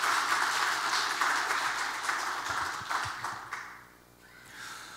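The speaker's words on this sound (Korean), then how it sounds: "박수 한번 해주시죠." Church congregation applauding the musicians who played for dawn prayer services, a broad steady clapping that fades out after about four seconds into quiet room tone.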